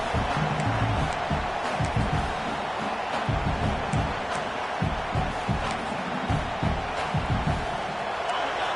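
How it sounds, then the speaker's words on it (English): A big stadium crowd at an LSU football game roars steadily and loudly throughout, a dense continuous wash of cheering with scattered bangs and claps, while a commentator talks over it. "The roar of the crowd trying to fuel this defense to keep them pinned in their own end."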